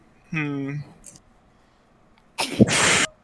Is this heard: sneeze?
yes